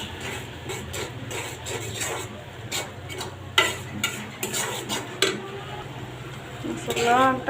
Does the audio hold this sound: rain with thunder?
no